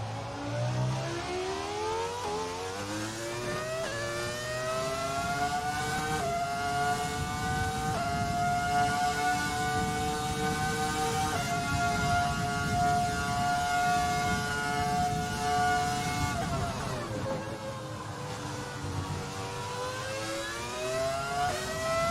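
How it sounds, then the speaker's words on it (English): Michael Schumacher's Formula 1 car in the racing game F1 2020, a high-pitched engine whine that climbs through gears with rising and falling revs, loud and continuous with no talking. "I'll let you listen to the engine sound because it's so amazing"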